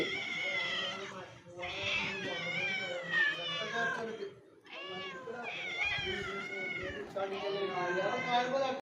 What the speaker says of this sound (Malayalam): രണ്ട് പൂച്ചകളുണ്ട്